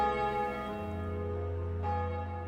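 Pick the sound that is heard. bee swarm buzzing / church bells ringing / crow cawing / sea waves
church bells ringing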